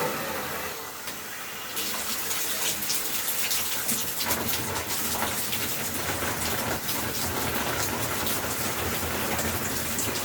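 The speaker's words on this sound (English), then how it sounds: "Now we're going to flip it to the shower." Water sprays steadily from the shower head of an MyPlumbingStuff RX2300 clawfoot tub shower kit, a broad even hiss that starts suddenly a moment in and then runs unbroken and fairly loud.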